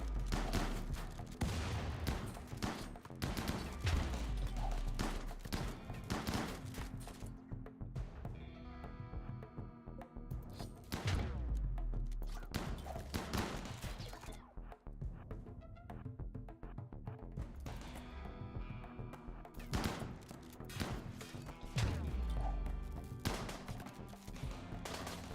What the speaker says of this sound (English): I think we just have to let these turrets deal with them.